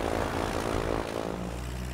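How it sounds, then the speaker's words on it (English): Antonov An-2 single-engine propeller biplane in flight, its radial engine and propeller giving a steady, loud droning hum that holds nearly even throughout. "The Antonov II is a huge propeller biplane with a single engine."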